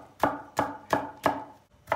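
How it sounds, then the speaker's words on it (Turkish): Garlic cloves chopped with a knife on a wooden board: five crisp, evenly spaced strikes about a third of a second apart, close and clear with no talking. "Soğanın içine tabandan 2 diş sarımsak doğruyoruz"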